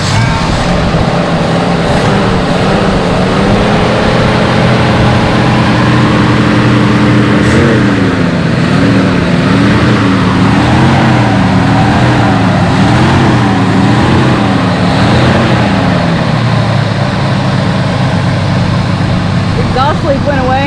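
A 1973 Dodge Dart Swinger barn find, running again after 29 years, with its exhaust leak now gone, idles steadily at close range for the whole stretch, with a warbling rumble and voices over it.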